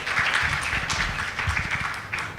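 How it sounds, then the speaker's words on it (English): An audience at a gaming summit and awards event applauds panelists on the dais. Dense, lively clapping from many hands runs continuously and fairly close. "can we have a loud round of applause for all of them once, please?"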